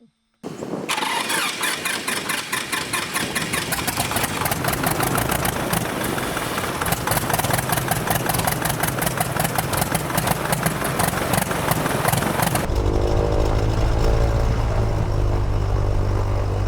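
A small airplane engine, flooded and run at full throttle, cranks and catches, then runs loudly and steadily with a rapid rhythmic pulse before the pitch drops to a deeper, rough idle near the end.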